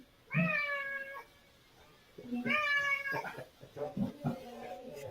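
A domestic cat meows twice in long, tonal calls close to the microphone, followed by a shorter cluster of softer meow-like sounds.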